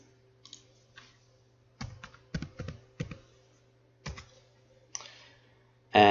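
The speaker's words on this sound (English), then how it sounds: "I'm right clicking over these" Mouse clicks while organising files on a computer, a scattered series of sharp, close clicks at uneven intervals over a steady low hum, ending in one louder burst.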